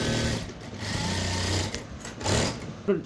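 A sewing machine runs fast while stitching a blouse, a continuous close whirring rattle that dips briefly and resumes, ending with a short clack.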